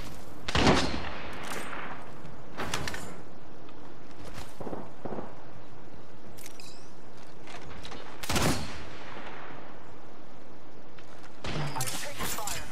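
Video game gunfire with energy weapons and thermite grenades, heard as bursts of loud, close shots and rapid volleys that break out repeatedly over about thirteen seconds, with gaps of quieter background between them.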